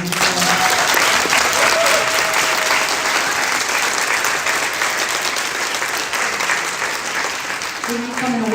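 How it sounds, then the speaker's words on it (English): Sustained, loud applause from a crowd at a student awards presentation, dense and continuous throughout, with some voices mixed in near the end. "So give them another round of applause."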